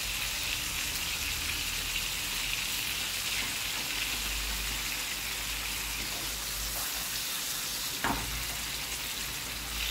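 Beef liver and onions fry in a pan, giving a dense, steady sizzle and crackle throughout with occasional stirring scrapes and one brief sharper spike, no voices over it.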